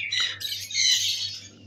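Breeding pairs of cockatiels in a pet bird shop give out brief, shrill squawking calls, two bursts in quick succession, close and loud.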